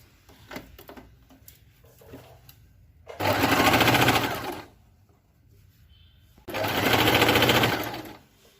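A Singer Fashion Maker 8280 sewing machine stitches a zigzag picot edge in two steady running bursts of about a second and a half each, separated by quieter handling noise.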